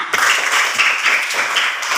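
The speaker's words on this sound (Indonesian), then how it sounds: "Tepukan semuanya." An audience claps for teachers in a classroom, a steady dense patter of many hands beginning sharply and carrying on evenly throughout.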